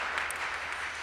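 An audience at a radio theater show in an adult community claps briefly. The applause is a dense, even patter that holds steady for about a second.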